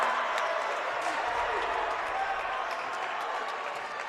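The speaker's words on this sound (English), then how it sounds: "The crowd got loud there after 2 amazing plays by Jabari Nurse." A high school basketball crowd in a gym roars and cheers after back-to-back dunks, with a dense, steady wall of noise and scattered clapping throughout, loud and close.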